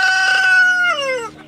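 A homestead farm rooster gives one loud, close crow that holds steady and then slides downward and trails off, heard alone.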